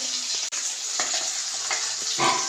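Rice cooking in a pot on the stove gives a close, steady hissing and bubbling sizzle, with a few soft clinks and stirring sounds over a few seconds.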